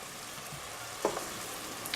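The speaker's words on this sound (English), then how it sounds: "I'm just trying to saute these vegetables." Onions, garlic, celery and herbs sauté gently in a pan with a steady, soft sizzle and a brief stir partway through, no voices over it.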